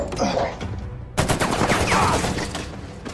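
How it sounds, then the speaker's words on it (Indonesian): Rapid gunfire as a CIA agent opens fire on two people in a film, bursts of dense, loud shots crowding in and growing heavier after a brief lull. "muncul salah seorang agen CIA yang menembaki mereka berdua"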